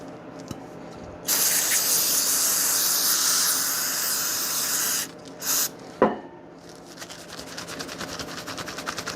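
Brake cleaner is sprayed onto rim bolts in a long, loud, steady aerosol hiss lasting several seconds, followed by a couple of short spurts and a knock, then faint rustling and handling with no speech.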